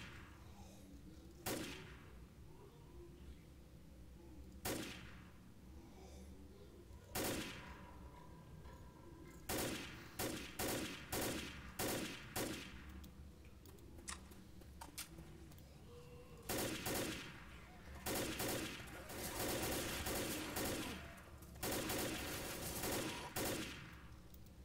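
Gunfire in the zombie shooter Left 4 Dead: isolated sharp shots early on give way to rapid bursts and sustained automatic fire, loud and close, with brief gaps between volleys.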